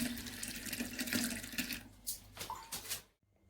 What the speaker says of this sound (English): Now we just simply add some cold water.